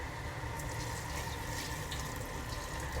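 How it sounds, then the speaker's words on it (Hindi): Water being poured into a pot of fried potatoes and peas, a steady splashing gush that runs continuously for a few seconds with no talk over it. "ये 2 गिलास के बराबर मैंने पानी डाल दिया है यहाँ पर, ताकि मटर आलू दोनों अच्छे से गल जाएं।"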